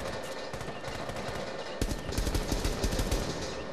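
Gunfire in the Rainbow Six Siege video game comes as rapid bursts of close shots that grow louder and denser partway through.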